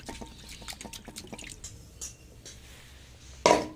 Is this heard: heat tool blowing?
no